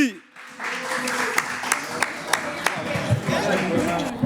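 An audience applauds a flute player as the last act of a show, with scattered sharp claps over a steady murmur of crowd noise and voices talking throughout.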